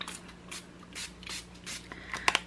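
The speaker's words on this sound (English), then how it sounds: "I am just going to spray this all over and just create a background with this." Mermaid lagoon oxide spray hisses onto a background in several short, close pumps spaced about half a second apart, followed by a couple of light taps, with no talking.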